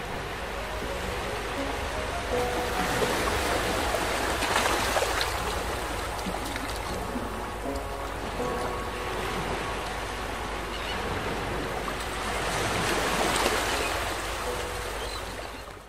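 Sea waves at Kolaba fort in Alibag wash steadily against the fort's walls, a broad continuous surf with two swelling peaks heard from atop a bastion.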